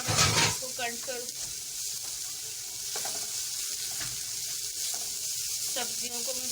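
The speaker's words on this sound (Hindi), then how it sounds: "मैं शिमला मिर्च डालूंगी, गाजर, और बिल्कुल इसे मुझे क्रंच करना है, ज़्यादा इसको फ्राई नहीं करना हैगा।" Garlic, capsicum and carrots stir-fried briefly in a hot pan to stay crunchy: a loud, close sizzling hiss with repeated scraping and tossing strokes of a spatula through the vegetables, and no talk.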